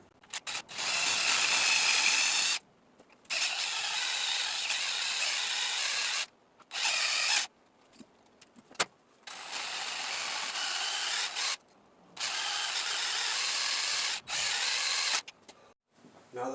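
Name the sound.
power drill removing stripped screws from Honda 450 oil pan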